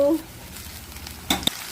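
Curry leaves, garlic, and green and dried red chillies sizzle briefly in hot oil for a tempering over spinach dal, a soft steady frying hiss with a couple of sharp pops near the end.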